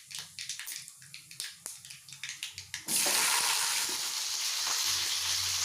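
Pointed gourd and potato frying in oil, a run of sharp spluttering pops and crackles from mustard seeds that breaks into a loud, continuous hissing sizzle as the vegetables hit the pan.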